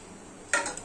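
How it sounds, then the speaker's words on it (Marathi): A spoon scrapes and clinks once inside a pot of vermicelli kheer made with milk and mawa, a short metallic stir arriving mid-clip after near silence in a home kitchen. "हे थोडंसं मी ढवळून घेणार आहे."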